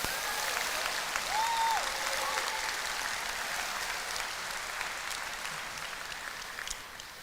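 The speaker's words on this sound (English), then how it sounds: "yeah, clap." Audience applause at a 2023 pharmacy graduation ceremony, a steady, dense wash of clapping from a large crowd that holds evenly throughout and tapers slightly near the end.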